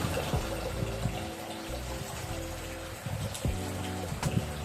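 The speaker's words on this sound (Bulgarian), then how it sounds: "Да видите чешмата." Steady splashing and trickling of water running from a public street fountain in Stara Zagora, Bulgaria, heard continuously and fairly close with faint outdoor background.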